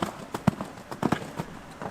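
Hooves of a horse cantering in an indoor riding arena during a jumping lesson, a steady run of soft clip-clop beats fairly close by, with no talk over them.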